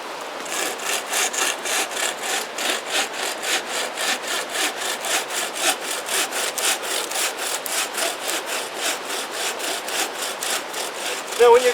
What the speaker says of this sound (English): when you're cutting large logs like this with a handsaw